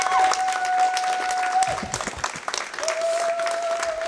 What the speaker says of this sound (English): can we get a round of applause for Caddy here for this amazing run, please?